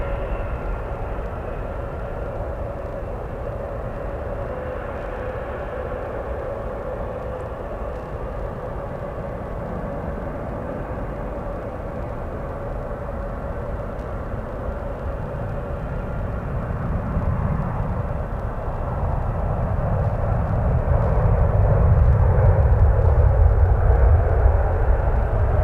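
A China Airlines airliner at San Francisco airport, a broad distant jet engine roar that holds steady and then grows louder and deeper over the last several seconds as the aircraft nears.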